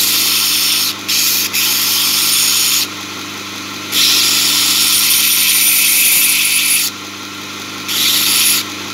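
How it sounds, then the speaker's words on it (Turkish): An orbital sander whirs steadily nearby, smoothing metal, its pitch and loudness rising and dropping in stretches as it is pressed on and lifted off. "Şimdi palet zımparayla düzeltme işlerini yapıyoruz."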